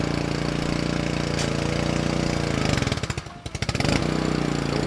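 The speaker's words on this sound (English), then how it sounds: "here is Abi Millet firing up the pressure washer" A pressure washer at a car wash and auto detailing shop starts up and runs with a steady, loud mechanical engine drone, briefly dipping and sputtering partway through before returning to full roar.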